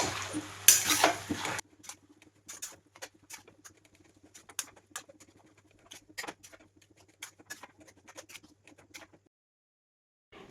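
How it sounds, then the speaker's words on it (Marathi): A spoon scrapes and taps in a pan of potato bhaji with chillies and sugar, giving soft, irregular clinks and scratches close by after a brief louder burst at the start. "आता बटाट्याची भाजी अशी हलवून घेते"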